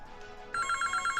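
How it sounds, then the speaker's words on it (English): A mobile phone ringtone starts abruptly after a quiet moment, a bright repeating electronic ring pulsing several times at moderate volume. "That's my phone ringing."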